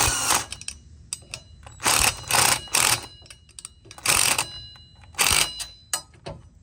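A 10 mm nut is tightened on an RV stabilizer base with a power driver, a series of short loud whirring bursts separated by quiet gaps, close up.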